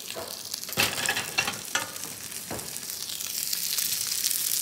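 A breadcrumb-coated sardine fries in hot oil over medium heat while being basted, giving a bright, crackling sizzle with several sharp splashing bursts as oil is spooned over it, and no talking.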